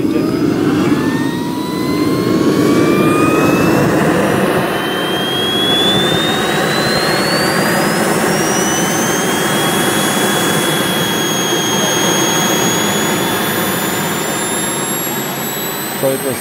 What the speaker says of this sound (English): I had a jet engine on my back